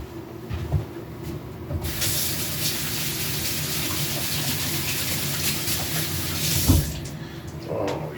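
Kitchen tap running steadily as hands are rinsed after handling liver for smothered liver and onions, a broad continuous hiss of water lasting several seconds with brief clunks at the start and end.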